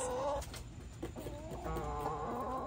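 Backyard hens clucking and murmuring while pecking at a pumpkin, soft repeated clucks close by over a faint outdoor hum, no talking.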